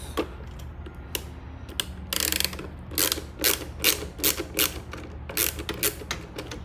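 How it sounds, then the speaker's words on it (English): Rapid ratcheting clicks come in repeated close bursts as a T15 bit removes two glove box screws on a 2022 Can-Am Ryker. "So you are going to need a T15 bit. So there are 2 screws here. You are going to remove those."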